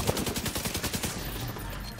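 An automated turret in The Division 2 fires at an enemy in rapid, evenly spaced bursts, a fast rattling volley at moderate loudness that tapers off after about a second.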